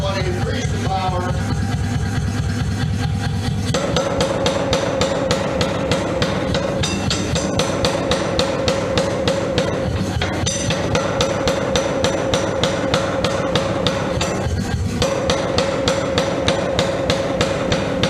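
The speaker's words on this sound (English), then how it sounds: "now you can see the power hammer using a flattened surface" A power hammer pounds hot metal on a square-faced hammer and anvil with a flattened surface, a fast, steady, loud mechanical pounding of repeated blows under a constant machine hum for the full length.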